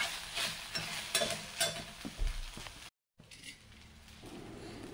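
Ginger garlic paste is sautéed in oil over low heat, with soft sizzling and repeated scraping, clinking stirs of a spoon in the pan, broken once by a brief silent gap.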